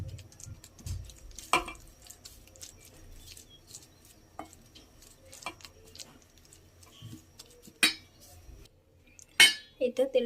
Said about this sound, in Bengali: চামিচ দিয়েই দিব কড়াইয়ের মধ্যে